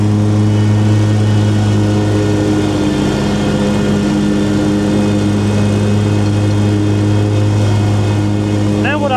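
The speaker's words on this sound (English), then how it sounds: "definitely gonna have to use the backpack blower." A backpack leaf blower engine runs steady and loud throughout, a constant droning hum with no pauses.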